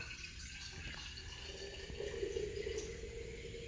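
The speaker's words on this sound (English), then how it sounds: "I'll go ahead and pour the juice that we had left over in this" Leftover smoked brisket juice is poured into a jar, a faint steady trickle of liquid against quiet background hiss, swelling slightly partway through.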